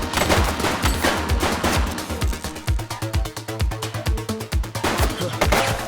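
A shooting suspect fires in the police game The Precinct: a rapid, steady string of loud gunshots, close and evenly spaced like automatic fire, running for several seconds with a few slightly heavier cracks.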